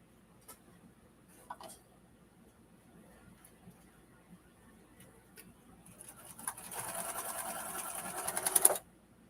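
A sewing machine stitches in a short fast burst near the end, a loud even rattling whir after several seconds of quiet room noise with faint taps.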